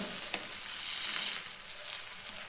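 Bottle gourd thalipeeth frying on a griddle over medium heat, a soft continuous sizzle with faint crackles, close and fairly quiet.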